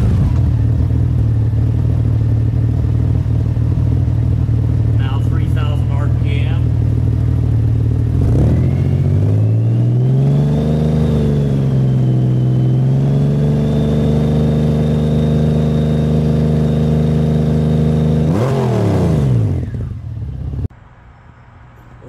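A Honda Goldwing GL1800 with its adjustable exhaust plugs pulled out idles with a deep, loud throb, then revs up, holds a raised note for several seconds and drops back to idle before cutting off.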